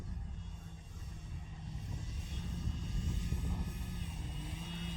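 A small engine drones steadily at moderate volume, holding a buzzing pitch with a slight rise midway, as an FMS Pitts V2 1400mm RC model airplane taxis along the ground.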